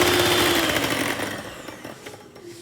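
An electric whisk beating stiff egg whites with caster sugar for a chocolate mousse, a close, high motor whir that is loud at first and then tapers off and quietens.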